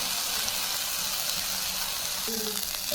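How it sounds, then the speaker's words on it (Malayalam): Sesame seeds dry-roasting and stirred in a pan for a traditional Kerala rice-ball snack give off a loud, even crackling sizzle throughout, with a light scrape of stirring near the end and no speech. "നല്ലപോലെ ഇളക്കിയിട്ട് എള്ളൊന്ന് വറുത്തെടുക്കുക"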